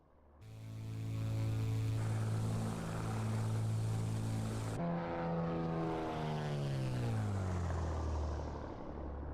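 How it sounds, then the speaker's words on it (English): Beechcraft Bonanza piston propeller engine in a flight simulator, a loud steady droning hum with a strong tone that holds for several seconds, then shifts and slowly winds down in pitch as the power is reduced, with no voices. "Listen to that engine sound."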